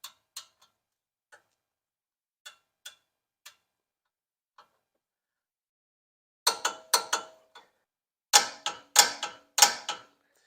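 A torque wrench ratchets as brake caliper brackets on a 1999 Toyota Tacoma are tightened to 80 foot-pounds, sparse light clicks at first, then bursts of rapid close ratcheting clicks near the end, with no talk.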